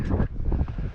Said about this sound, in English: Sorry for the wind, it's really windy today.